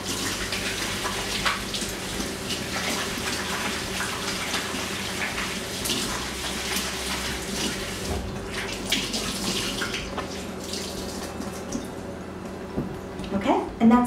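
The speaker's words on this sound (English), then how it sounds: "Hot water helps the fibers to expand, and you just rub the fibers together against themselves." Hot water runs steadily into a sink while a microfiber cleaning cloth is rubbed against itself under the stream, a continuous splashing wash with soft squishing, and a person talks over it.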